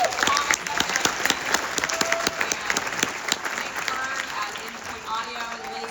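Audience applause at a film screening introduction, a dense steady clapping from a crowd filling the room, loud and continuous with scattered sharper claps, tapering slightly toward the end.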